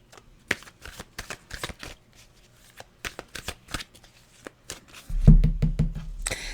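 A deck of cards is shuffled for a card reading in a quiet room, a series of quick riffling bursts up close, ending in a louder low thump.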